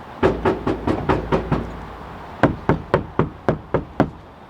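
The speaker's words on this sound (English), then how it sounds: "So Baron, knock on that door." Knuckles rap on a Honda Element car door fitted with sound deadening, two series of dull, even knocks, about seven then eight, each thud short and close with little ring.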